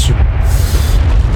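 Spell explosion from Confringo in the game Hogwarts Legacy, a loud, dense rumbling boom filling the short moment with no talk.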